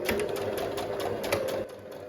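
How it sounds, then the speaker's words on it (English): A sewing machine stitches a new seam line on an embellished dress with a steady, fast mechanical whir and rapid needle clatter, close and loud, stopping briefly near the end. "I'm just gonna sew this new line where we want the"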